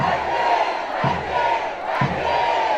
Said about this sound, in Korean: 자, 다 같이 김문수!